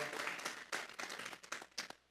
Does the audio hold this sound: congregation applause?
yes